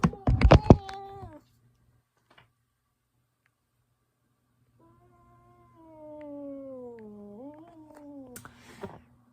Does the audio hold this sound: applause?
no